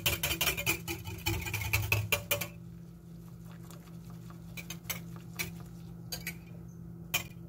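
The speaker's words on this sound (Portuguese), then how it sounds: "Agora você vai mexer bastante também" Metal spoon clinking and scraping against a bowl while stirring a cream dessert mixture made with boxed table cream for a homemade strawberry dessert, close and busy at first, then lighter scattered taps with no talking.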